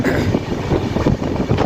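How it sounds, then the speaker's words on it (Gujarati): A passenger train on the Rishikesh, Uttarakhand route runs at speed, heard from on board as a loud, steady rumble with rhythmic wheel clatter throughout. "ભાગે હો ભાઈ ટ્રેન"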